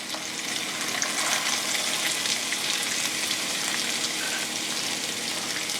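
Chopped onions hit a hot pan of haleem base and sizzle steadily, a dense, even frying hiss that holds at a constant level throughout with no voices.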